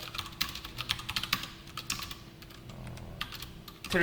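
Typing on a computer keyboard while writing Java login code, with rapid clusters of close, crisp key clicks that pause briefly in the middle and then resume, with no talking over them.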